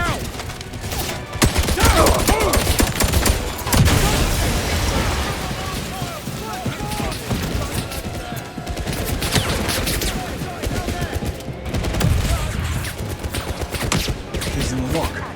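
Gunfire rattles in the 007 First Light video game, dense rapid shots and bursts throughout, loud and busy, with voices shouting over the fight.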